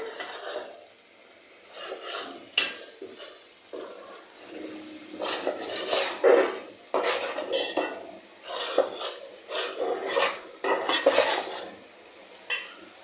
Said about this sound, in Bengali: মশলাগুলো আমি সুন্দর করে নাড়িয়ে নিচ্ছি।